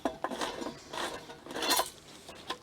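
A hand can opener works around the lid of a can, grinding and rasping in short bursts with a few metallic clicks, close and without voices.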